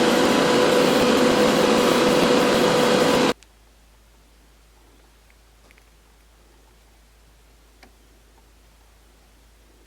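An airbrush shoots green paint onto a die-cast Matchbox 1968 Mercedes truck as a steady, close broadband hiss for about three seconds, then cuts off abruptly to near silence.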